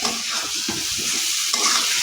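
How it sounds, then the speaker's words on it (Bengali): Bottle gourd green stems and potatoes frying in a pan make a loud, close, steady sizzle. Stirring shuffles and scrapes sound through it, with no speech. "নেড়ে চেড়ে লাউ শাকের ডাঁটা আর আলু দুটো দিয়ে দিব"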